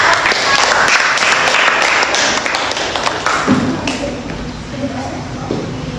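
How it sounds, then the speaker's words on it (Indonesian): Students in a classroom give a group a burst of applause that is loud at first and then thins out. Scattered thumps and shuffling follow as the clapping fades. "Tepuk tangan untuk kelompok."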